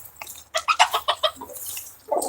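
Hens clucking in a pen alongside a rooster, a quick run of loud close clucks followed by quieter calls, with a further squawk at the end and no voices.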